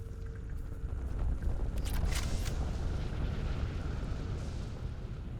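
A Collector particle beam weapon in Mass Effect 2 fires a sustained, rumbling energy blast that swells around the second mark and holds steady, loud and close, with no talk over it.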